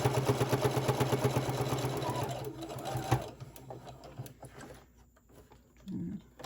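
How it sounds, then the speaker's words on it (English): Sewing machine top-stitching around a fabric face mask, a rapid, even mechanical chatter for about three seconds that then stops, leaving quiet handling sounds and a brief low hum. "I'm sewing slowly across the top"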